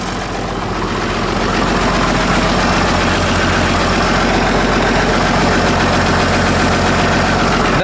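An old tractor engine runs with its muffler fitted, a loud, close, steady rumbling roar with a deep rhythmic throb that carries on unbroken throughout.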